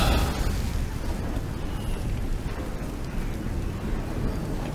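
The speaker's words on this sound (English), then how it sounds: "Fire orb." A fire orb spell bursting in Baldur's Gate 3, heard as a dense, sustained roaring rumble with a low eruption-like boom that stays loud and steady throughout.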